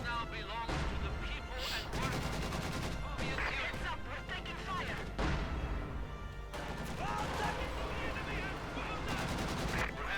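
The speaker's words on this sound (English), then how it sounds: "Another Katusha barrage. Might be trying to hit the enemy base." A Katyusha rocket barrage in the real-time strategy game Company of Heroes 2 makes a loud, dense wall of explosions and crackling gunfire for the whole stretch, with a voice talking beneath the battle noise.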